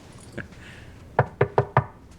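Four quick, evenly spaced knocks on a door, close and crisp, preceded by a single fainter tap.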